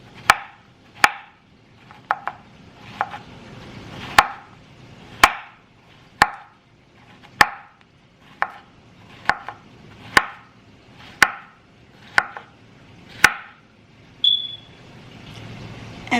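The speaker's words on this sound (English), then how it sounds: "I'm going to show you how I'm cutting the veggies. We have zucchini and some sweet onions." A knife chops zucchini and sweet onions on a cutting board in crisp, evenly spaced strikes, about one per second, close and clear with no talk, ending in a brief high beep.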